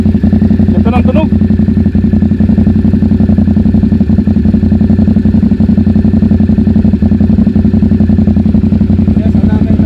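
Close, loud motorcycle with a replaced aftermarket exhaust running steadily with a throbbing, rapid-firing engine note, while men chat over it.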